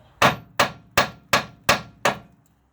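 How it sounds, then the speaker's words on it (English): Six evenly spaced hammer taps strike a car's ball joint to loosen it during a CV joint boot replacement on a Ford with MacPherson strut suspension, sharp, close and loud with no talking. "You can use a tap with the hammer just to shake it off, and so it gets a bit loose."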